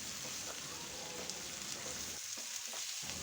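Frying potatoes hiss and crackle as homemade chili powder is stirred in, a steady close sizzle with faint scraping, quiet and without talk.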